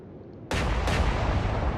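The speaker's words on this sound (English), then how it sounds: "Big explosion, still not sinking" Naval gunfire and a big explosion in the naval combat video game Atlantic Fleet, a sudden loud blast after a brief quiet, followed almost at once by a second heavy boom that rolls on in a dense, rumbling roar.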